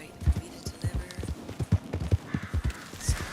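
Horses in Red Dead Online clip-clop in a quick irregular rhythm of hoofbeats, close and steady.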